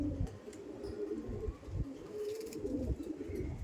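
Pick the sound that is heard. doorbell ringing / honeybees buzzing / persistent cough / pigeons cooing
pigeons cooing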